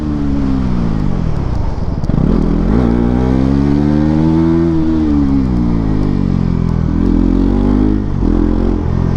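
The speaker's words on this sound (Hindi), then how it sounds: "जिस तरीके से ये मोटरसाइकिल जा रही है" A Bajaj Pulsar NS400Z motorcycle riding through the city, its engine loud and close, pitch rising and falling as it accelerates, shifts and pulls through the rev range.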